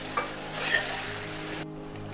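Eggs frying in oil in a pan for an egg dish with prawns and drumsticks, giving a steady close sizzle with stirring scrapes that cuts off abruptly near the end.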